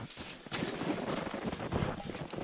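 Strong winter wind in the mountains buffets the microphone with a steady, loud roar and rumble for a couple of seconds, with no other sound standing out.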